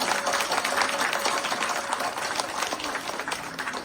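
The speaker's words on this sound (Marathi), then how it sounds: "एकदा जोरदार टाळ्या सुहास दादांसाठी" An audience applauds Suhas Dada at a stage music program, a dense, continuous wash of clapping from many hands that holds steady throughout.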